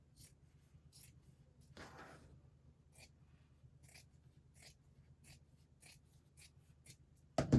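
Scissors snip through felt while shaping a sunflower centre, a handful of short, crisp cuts spaced irregularly and close by, closing on a louder clunk.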